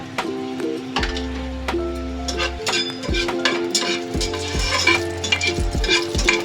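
Whole garam masala spices frying lightly in a pan, a close crackling sizzle with repeated clinks and scrapes of a utensil against the pan and a low steady hum underneath, no talking.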